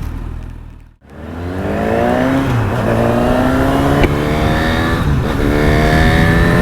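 A 2025 Honda CB1000 SP Hornet motorcycle engine revs hard and climbs through the gears, with its pitch dropping briefly at each shift. The engine note is loud, close and continuous.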